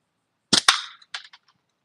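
A shot striking a can target outdoors: two sharp, close cracks in quick succession followed by a few fainter metallic pings and ticks trailing off into silence.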